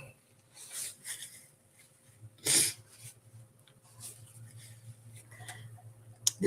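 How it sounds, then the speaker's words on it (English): A single sharp sneeze bursts out near the middle, close and fairly loud against a quiet room with a faint steady hum. "I have to sneeze"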